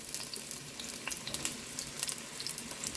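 Onion crackles and sizzles in hot oil in a home-kitchen pan for sausage and peppers, a steady bright frying hiss with scattered pops close by and no talking.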